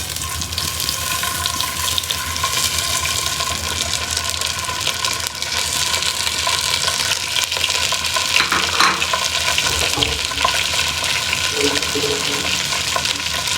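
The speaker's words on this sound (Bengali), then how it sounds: "ডিমগুলো ভাজা হয়ে এসেছে, এখন এগুলো উঠিয়ে নেব।" Eggs frying in hot oil in a frying pan on a stove, a steady loud sizzle and crackle running throughout with a few brighter pops.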